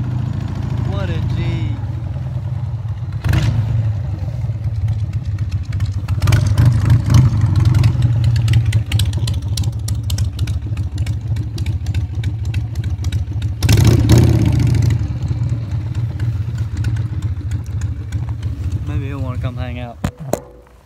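A Honda Rebel motorcycle rides through a fast-food drive-thru, its engine putting out a steady low chugging rumble that swells briefly around the middle and near the end before cutting off abruptly.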